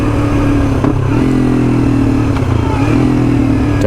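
Yamaha YZF R3 300cc motorcycle engine droning steadily and loudly close by as it rides, with brief dips and shifts in pitch around downshifts.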